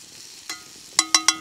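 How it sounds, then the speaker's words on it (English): Pumpkin and sweet potato fry in a pan over an open fire at a wilderness bush camp, with a faint sizzle and a few sharp stirring scrapes and clinks close by, with no talking. "Bit of pumpkin and sweet potato frying away."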